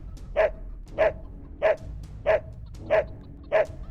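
A dog barks repeatedly in a video game, six evenly spaced barks about every 0.6 seconds, loud and close over a low background hum.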